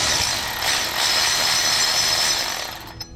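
A hand ratchet works loose a bolt on a Toyota 4Runner's power steering pump, giving a steady, close run of fine clicking for about three seconds before stopping abruptly.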